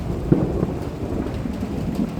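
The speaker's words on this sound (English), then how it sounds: "Lord knows you've never heard thunder before, right?" A low, rolling rumble of thunder builds through a nighttime rainstorm outdoors, with steady rain hissing underneath and no voices.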